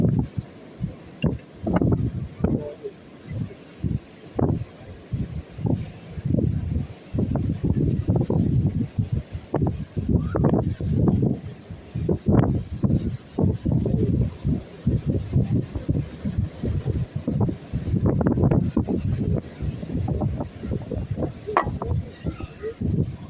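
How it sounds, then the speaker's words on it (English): Gusty wind buffets the microphone outdoors on a chilly day, a loud, rough rumble that surges and drops continuously with clinking and rustling mixed in and a person speaking at times. "Let's get out of this wind."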